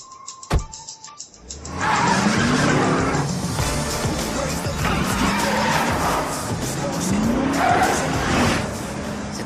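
A car skids with its tires squealing in long repeated screeches over loud engine roar, after a brief sharp knock and a short quiet lead-in.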